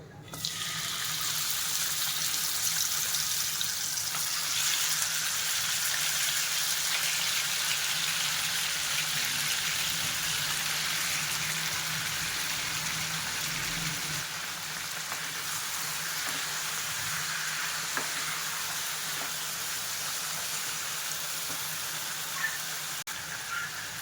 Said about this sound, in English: oil heat అయ్యాక chicken అందులో add చేసుకుందాం